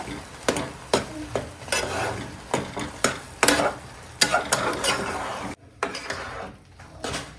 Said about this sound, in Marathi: एक पाच एक मिनटं आपण याला फ्राय करूया